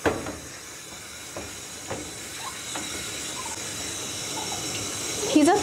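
Warm water runs steadily with a soft hiss and faint splashing while rinsing a Cocker Spaniel puppy, continuing throughout at moderate volume.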